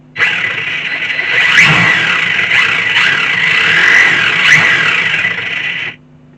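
A Tamiya Super Champ RC car's electric motor whines loudly and close for about six seconds, surging in a few repeated revs before stopping abruptly.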